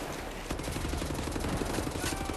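Dual-wielded guns firing in rapid, continuous bursts in the shooter game Wolfenstein: The New Order, loud dense automatic fire with overlapping shots and no talking.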